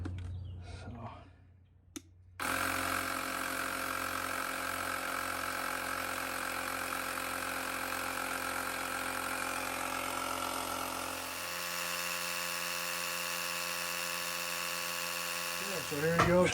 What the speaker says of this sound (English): I like this little Ryobi air compressor, but I don't like buying Ryobi batteries